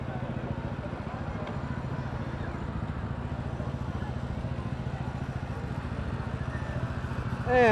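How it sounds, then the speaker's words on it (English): A John Deere tractor rolls along a street in a holiday parade, its engine giving a steady rhythmic chugging throughout, close and fairly loud, with a voice at the very end. "And we got a John Deere tractor to make sure the streets are clean."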